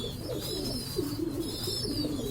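A cream-eyed master pair of pigeons gives soft, close, rolling coos in short repeated bursts over a constant low background hum.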